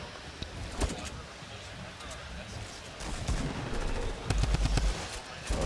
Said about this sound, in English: taking shots out, trying to do anything he can just to try and get a tap here